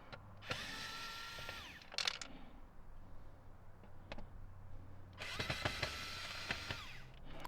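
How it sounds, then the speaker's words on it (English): Screws being backed out of an old Ram truck instrument cluster with a power driver, several short whirring bursts separated by quieter pauses and small clicks, close and distinct. "we got a bunch of screws right over here. Let's start taking these out one by one."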